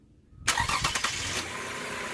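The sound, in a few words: car engine starting on a weak battery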